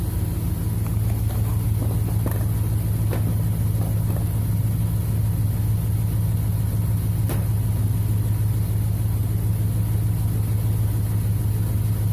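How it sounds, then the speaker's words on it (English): A Dodge Ram 1500 pickup engine idles close by with a steady low rumble that never changes, a few faint clicks in the background, no talking. "We got the engine idling."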